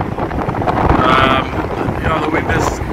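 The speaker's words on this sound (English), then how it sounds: "Yeah, the wind is hectic, really hectic." Strong wind gusts across an open beach, roaring steadily into the microphone as broadband rushing noise that swells slightly in the middle, close and loud throughout.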